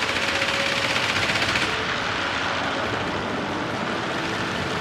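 A P-38F fighter fires its cannons in World of Warplanes, a rapid loud burst of rattling shots over the aircraft's engine drone. The firing stops after about two seconds and the engine roar carries on alone.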